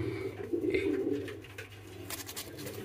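Pigeons kept in a loft coo in low, soft repeated phrases close by, with some faint rustling and shuffling around them and no talk.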